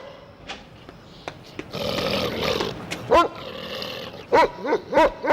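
A dog at a veterinary clinic whimpers and gives short yelping barks, with a run of several high cries near the end. A brief scuffle of movement comes before them.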